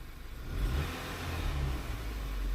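A VW Passat engine with a lean-running fault (P0171) accelerates at moderate distance, its low rumble swelling and then holding steady without speech.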